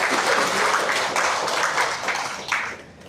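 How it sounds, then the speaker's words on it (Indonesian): An audience at a talk gives a short round of applause, steady clapping that carries on evenly and tapers near the end, with no speech over it. "kita boleh tepuk tangan untuk semuanya"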